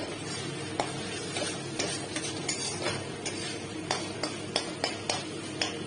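Prawns being stirred in a cooking pan for a prawn malaikari gravy, soft sizzling under a steady series of light scraping taps from the spoon, fairly quiet and close.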